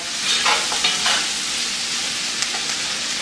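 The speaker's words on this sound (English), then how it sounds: "We're going to cook this down for about 15 minutes, stirring every minute or so." Onions, garlic and celery frying in a pot for jambalaya, with a steady broadband sizzle and a few soft scraping stir strokes near the start, close and continuous, with no talking.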